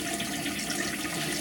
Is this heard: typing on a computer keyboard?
no